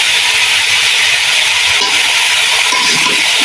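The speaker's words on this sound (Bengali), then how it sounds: "দিয়ে তেলের সঙ্গে একটু ভেজে নেব" Pieces of bottle gourd and potato fry in hot oil, giving off a loud, close, steady hiss and sizzle that runs unbroken throughout, with no voices.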